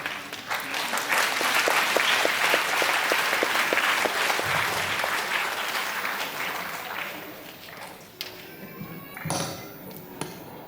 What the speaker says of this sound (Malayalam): സ്വാഗതം ചെയ്യുന്ന ഒരു നല്ല കയ്യടി